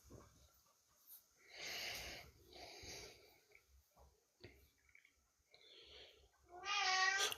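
A pet cat meows several times in a quiet room, with soft breathy sounds between calls and a louder, drawn-out meow at the end.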